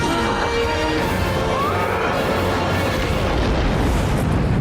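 A nuclear missile explosion in the animated series Invincible makes a loud, sustained roaring blast that fills the whole stretch with dense, rumbling noise.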